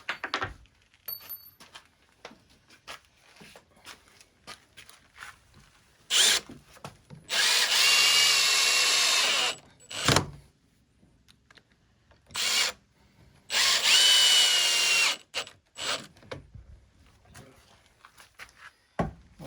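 A cordless power drill drives long screws into a recycled poly dockside ski and board rack in several loud whirring bursts of a second or two, separated by quieter handling clicks and taps.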